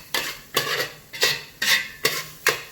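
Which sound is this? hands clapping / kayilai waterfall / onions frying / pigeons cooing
onions frying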